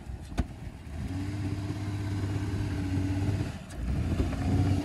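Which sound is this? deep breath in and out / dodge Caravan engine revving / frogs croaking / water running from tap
dodge Caravan engine revving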